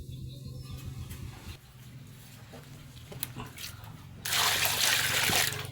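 Water trickles and splashes while mackerel are washed in a basin before boiling, the flow swelling into a loud, close gush of running water near the end.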